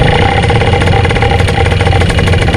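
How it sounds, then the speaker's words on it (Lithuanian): A motorized paraglider engine runs at full power during a winter flight, a loud, steady, close roaring drone that holds without a break from start to finish. "stipriai ūžiantis variklis"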